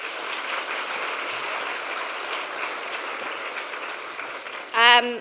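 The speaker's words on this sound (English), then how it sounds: "please join me in giving them all a round of applause" A large audience at a Women Lead Here awards event gives sustained, steady applause that fills the clip, and a brief voice speaks near the end.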